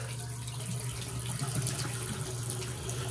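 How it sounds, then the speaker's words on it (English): Cold water running steadily from a matte black two-lever widespread bathroom faucet, a constant close splashing hiss into the sink with no pauses. "So let's turn on the cold water side."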